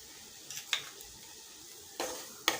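Powdered sugar and cardamom being stirred into grated coconut for ladoo, heard as a few soft scraping and tapping strokes of a spoon against a pan, quiet and close, with gaps between them.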